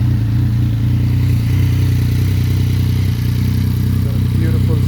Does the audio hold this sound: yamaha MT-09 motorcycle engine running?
yes